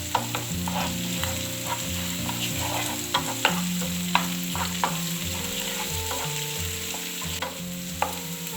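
Green chilies and curry leaves sputter in hot oil with a steady close sizzle and a few sharp pops and stirring knocks, with no speech.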